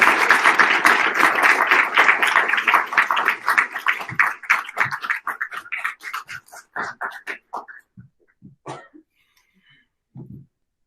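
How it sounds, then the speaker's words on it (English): An audience at a school senior chapel claps. Dense applause thins into scattered individual claps and dies away over about ten seconds, with no one speaking. "please join me in a round of applause for all of you"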